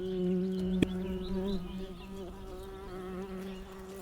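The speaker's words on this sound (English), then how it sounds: "The hornet emerges from its paper nest, ready to spread terror" A hornet buzzing near its paper nest, a steady close drone with a low hum and faint higher overtones holding evenly throughout, with one brief click near the start.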